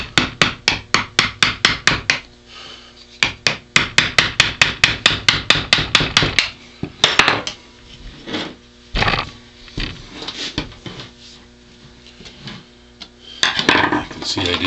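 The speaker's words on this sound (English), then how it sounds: "If it don't go sometimes, a hammer always works." Hammer striking while caping a deer head: quick bursts of sharp metallic taps, several to a dozen blows each in fast regular rhythm, close and loud, separated by pauses with scraping handling sounds.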